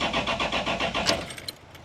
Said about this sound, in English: We've got the cranking.